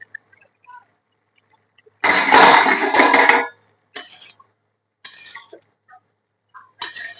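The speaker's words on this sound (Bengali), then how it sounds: "ঢাকনা খুলে দেখে নিই কেমন কি হলো" A metal lid lifted off a cooking pot of vegetables and fish heads, one loud clattering scrape followed by a few brief, sharper metallic clinks, close by in an otherwise quiet kitchen.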